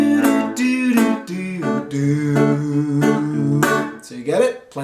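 A guitar picks out the melody of a song over rhythmic strummed chords, notes changing every half second or so, played up close with no talking.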